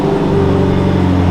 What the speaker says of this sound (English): I love the sound of this exhaust.